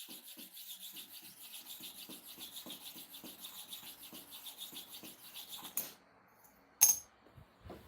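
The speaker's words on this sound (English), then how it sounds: "you sharpen your clipper and the clipper blade correctly" A hair clipper blade being sharpened with quiet, even rasping strokes repeated in a steady back-and-forth rhythm, then stopping, followed by a couple of sharp clicks.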